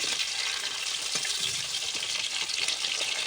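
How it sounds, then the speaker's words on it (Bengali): Rohu fish pieces sizzle in hot oil in a pan as they are stirred and turned, a loud continuous crackling fry with faint scraping, close by and with no talk over it. "এই মাছগুলো ভালো করে ভেজে নিতে হবে এইভাবে মাছগুলো নেড়ে চুড়ে নিতে হবে"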